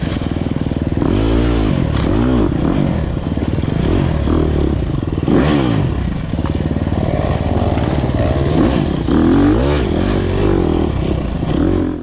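A motorcycle engine revs repeatedly in loud, close bursts on a dusty trail during an expert-level off-road race, with clattering and scraping mixed in and no talk.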